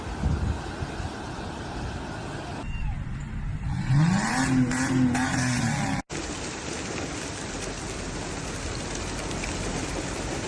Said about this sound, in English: the rainfall has been incessant, leading to flash floods that have inundated streets and caused widespread disruption